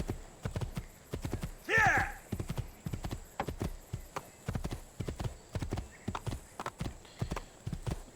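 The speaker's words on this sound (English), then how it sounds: "Climb on the horse." Horse hooves in the video game Assassin's Creed II, a steady clip-clop of clear, evenly spaced hoofbeats with a brief neigh early on and someone talking over them.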